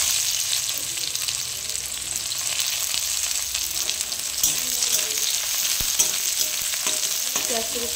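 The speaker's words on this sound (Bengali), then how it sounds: "জিরাটা একটু ভাজা ভাজা হলে দিয়ে দেবো পেঁয়াজ কুচি।" Chopped onion fries with cumin in hot oil in a kadai for a Bengali lote fish curry, a steady close sizzle with soft scraping from occasional stirring.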